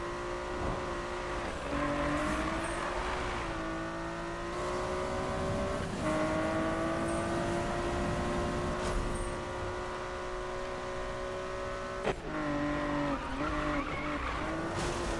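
A car engine in the Need for Speed racing game is pushed hard, its revving note climbing and dropping through repeated gear shifts with brief tire squeals, loud and continuous without talk.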